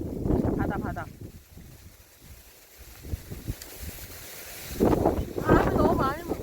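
Strong gusty wind buffeting the microphone at a seaside fishing spot in Yeosu, a steady low roar with surges, while someone speaks at the start and again near the end.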